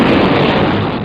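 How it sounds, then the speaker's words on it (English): A sonic boom from a supersonic aircraft arrives as a loud, broad, rumbling blast that fills the whole moment with dense, sustained pressure noise and no quiet gap. "Aircraft actually usually produce two booms."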